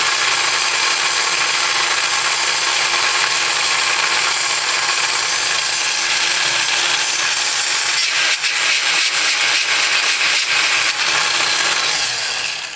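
A Granberg precision sharpener files a chainsaw chain in a steady, loud, continuous grinding that runs throughout, with rhythmic scraping strokes toward the end and no talking.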